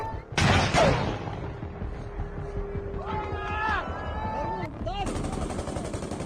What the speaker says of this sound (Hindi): रूस और यूक्रेन के सैनिक आमने सामने एक दूसरे पर गोलियां बरसा रहे हैं।